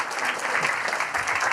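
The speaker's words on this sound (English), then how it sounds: "give them a round of applause and say thank you for being here" Audience applause fills a symposium hall after a presentation, a steady wash of many hands clapping at moderate volume with no talk over it.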